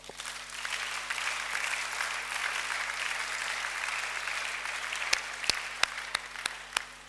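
A church convocation audience applauds in a dense, steady wash of clapping that holds at an even level, ending with a few sharp, distinct claps standing out near the close.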